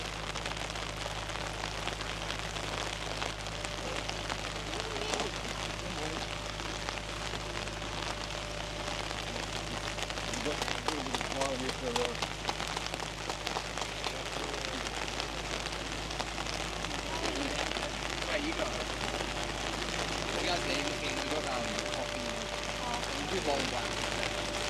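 Loud, steady rain drums continuously through a livestream caller's microphone, a dense hiss of drops striking a surface, with voices faintly underneath.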